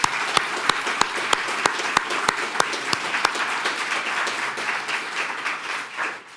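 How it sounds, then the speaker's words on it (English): An audience at an education legislative forum breaks into a round of applause: a few sharp, evenly spaced claps near the microphone at first, swelling into a full, even wash of clapping that fades at the end. "would you give them a round of applause?"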